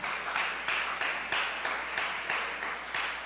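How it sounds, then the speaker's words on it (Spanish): A church congregation applauding in steady rhythmic claps, about three per second, a dense even wash of many hands at moderate loudness. "Denle un aplauso al Señor fuerte."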